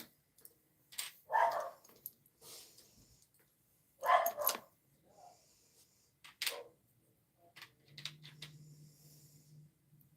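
Pups yelping in short, scattered barks spaced across several seconds, fairly close but not loud, with quiet gaps between and a low hum near the end.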